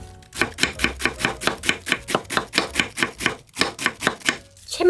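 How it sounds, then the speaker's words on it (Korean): A knife chops cabbage into thin shreds on a cutting board, about fifteen crisp, evenly spaced strokes in a brisk rhythm, close and clear, with a short pause near the end before a final scrape. "양배추를 딱 이래서 잘게 채를 썰어주세요."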